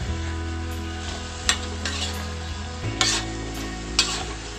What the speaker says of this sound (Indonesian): Oke, diaduk-aduk terus biar bumbunya merata ya. Apinya biarkan besar aja supaya cepat mateng.